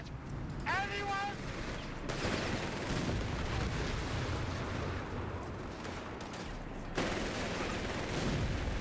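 Gunfire and battle noise in Company of Heroes 3, a World War II strategy game, during the El Alamein mission in North Africa: a dense, continuous wash of shots and blasts with a sharp onset about two seconds in, under soldiers' radio chatter.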